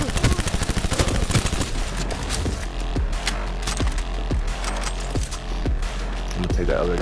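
Rapid gunfire in Cyberpunk 2077, dense bursts and repeated sharp shots over a busy game soundtrack, loud and close with a brief voice underneath.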